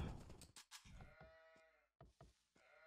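Sheep bleat several times in a strategy video game, short wavering cries that come in a loose cluster and then taper off, clear and close with no talking.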